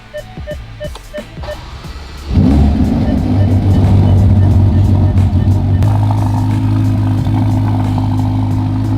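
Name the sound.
Ferrari Roma engine startup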